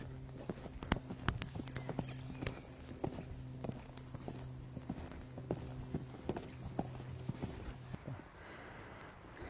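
A horse's hooves clip-clop steadily in a regular striding rhythm as it is worked between lines of poles in an arena, moderately close, with a faint humming tone underneath and no speech.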